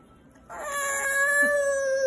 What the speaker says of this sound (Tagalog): Kunin ang manok.